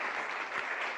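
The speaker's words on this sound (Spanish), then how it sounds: "Damos un aplauso" Audience applause at an academic research presentation, a steady wash of clapping filling the whole moment at moderate volume with no voices over it.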